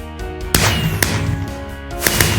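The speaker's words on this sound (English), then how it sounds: "purple fireworks are now lit up in the district of Pradakano here in Sonoma City" Purple fireworks burst over a city election night, with several loud sharp bangs at uneven intervals over a dense layer of music.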